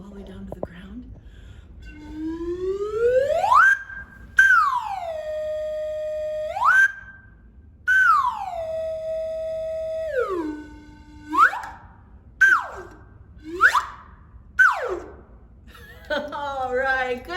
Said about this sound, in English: that's called the slide whistle